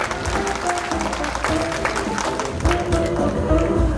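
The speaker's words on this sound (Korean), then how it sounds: "박수 부탁드리겠습니다." Audience applause at an art biennale opening ceremony in Gimhae, a steady wash of clapping that holds for the whole few seconds, with a voice audible over it.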